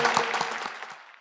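A church congregation applauding during a Korean New Year worship service, a brief burst of clapping that fades within about a second.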